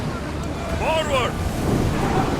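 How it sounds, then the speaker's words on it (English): In the video game Assassin's Creed Odyssey, steady wind at sea rushes around a sailing ship with surf and hull wash beneath, while a voice shouts briefly over the constant roar. "Feel that wind!"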